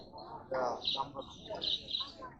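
Pigeons chirp and coo in a few short bursts at the Mirpur pigeon market, with faint background noise and no talking.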